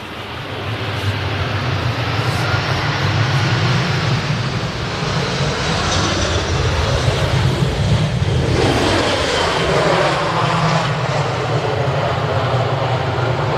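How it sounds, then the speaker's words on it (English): An EasyJet Airbus A319 airliner arrives on runway 05R at Manchester Airport early in the morning, a loud, broad jet roar that stays strong throughout and swells and shifts as it passes. "So that's the EasyJet A319."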